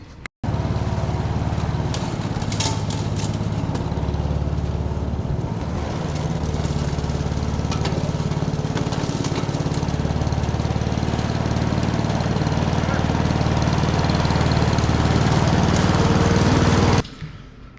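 A small-engine lawn mower runs steadily and loudly up close, starting abruptly after a brief pause and holding a constant drone for about sixteen seconds before cutting off, with no talking.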